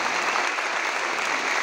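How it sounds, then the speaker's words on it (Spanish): A crowd at a lively Peruvian event applauds a performer with a dense, sustained wash of clapping, steady and fairly loud from start to finish. "Un fuerte aplauso para vos"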